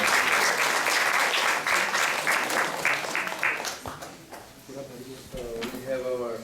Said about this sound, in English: big round of applause for Adi Gadadhar